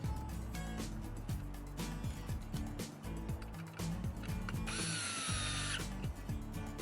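A power drill drives a screw back into an RV window awning arm. The whirring motor rises and falls in short pulses and is joined near the end by a brief higher-pitched whine, close but fairly quiet.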